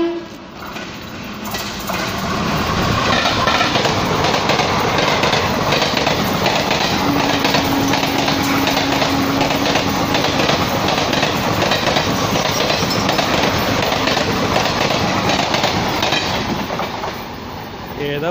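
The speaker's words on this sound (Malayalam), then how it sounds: "ഇനിയൊരു ട്രെയിൻ വരുന്നുണ്ട്. ഒരു എക്സ്പ്രസ് വരുന്നുണ്ട്." An express train rushes through a railway station at speed, a loud, close, sustained roar with rhythmic wheel clatter that lasts most of the clip before easing off at the end.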